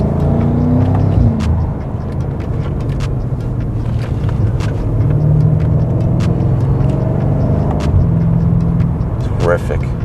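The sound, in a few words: modified F90 BMW M5 car driving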